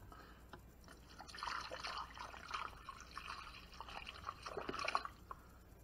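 Water poured from a pitcher into the reservoir of a Cuisinart metal thermal programmable coffee maker, a quiet splashing trickle that swells and fades over several seconds, close by with no talking.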